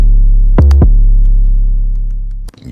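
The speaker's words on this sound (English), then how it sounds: "Clearly the Descent 808 is the one," A Descent 808 bass sample rings out as a loud, deep sustained boom with a quick pitched bump near the start, holding steadily for about two seconds before cutting off, with no voices present.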